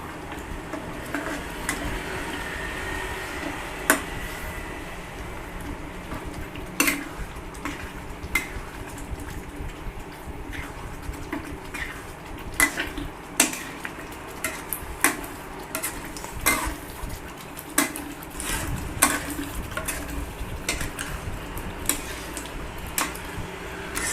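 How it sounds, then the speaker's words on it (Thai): Green curry with chicken and young coconut shoots is stir-fried in a pan, with repeated sharp clinks of a utensil against metal over a low bubbling background. It is steady and close, with no talk. "ก็ผัดให้เข้ากันเลยครับ"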